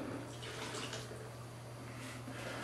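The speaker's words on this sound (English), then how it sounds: "All we do is pour away the majority of that water" Water is poured out of a Jetboil Zip cooking cup, a faint continuous splashing wash lasting a few seconds, quiet and without talk.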